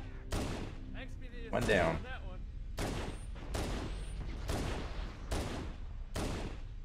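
Rapid Magnum pistol shots in the Halo video game, a string of sharp evenly spaced cracks of gunfire at close range, with a player talking over some of them.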